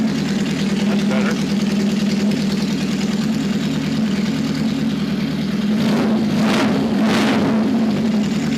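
An old Honda CB or Kawasaki KZ motorcycle, one of two bikes that had sat unrun for ten years, idles steadily with a low even rumble, a few brief throttle blips near the end.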